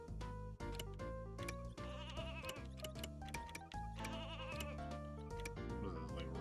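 Repeated sheep bleats from the video game Space Station Silicon Valley sound over continuous game music, with the animal calls recurring quickly and prominently throughout.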